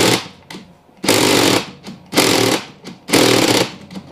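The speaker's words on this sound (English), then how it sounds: "I'm going to leave some in there so I can hit this front sprocket with my impact" Three loud bursts of a battery impact wrench hammering on the front sprocket bolt of a Honda TRX700XX ATV, each burst about half a second long, with shorter, weaker bursts between them as the battery fades.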